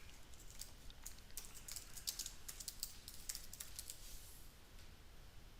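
Quiet, rapid clicking of computer keyboard keys as code comments are typed, steady irregular keystrokes close by with no speech.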